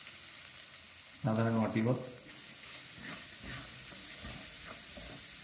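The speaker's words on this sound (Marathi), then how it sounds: "छान परतून घ्यायचा आणि नंतर यामध्ये बारीक चिरलेला कांदा" Finely chopped onion sizzles in a pan for a Maharashtrian masvadi dish, a soft steady frying hiss running beneath a brief spoken phrase and continuing quietly after it.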